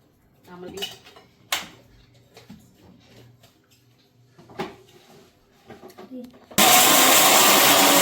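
Kitchen clatter of utensils and dishes as spice ingredients go into a mixer grinder, then the grinder starts abruptly with a loud, steady, close whirring roar.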